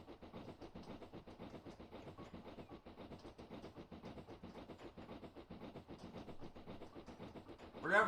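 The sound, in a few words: Black 5 steam locomotive running, from a train simulator game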